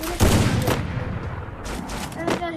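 Gunfire in the Free Fire video game: dense bursts of rapid shots crackle loudly through the whole stretch, with a second volley near the end.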